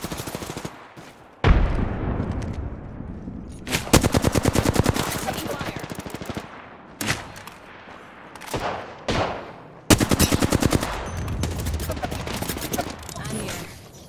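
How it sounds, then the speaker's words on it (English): Rapid automatic gunfire from the Apex Legends video game rattles in several loud bursts, separated by quieter stretches of gameplay sound and brief heavy shots. "Taking fire."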